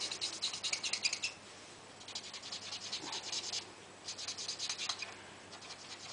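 Promarker alcohol-based marker colouring an owl image on card in circular motions, giving repeated soft scratchy strokes in bursts with short pauses between them, close and fairly quiet.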